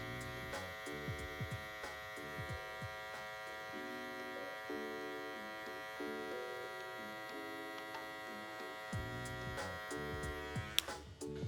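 Hair clippers fitted with a one guard, lever in the three-quarter position, cutting hair during a high taper fade; a steady close electric buzz runs throughout with small shifts in tone as the blades move through the hair.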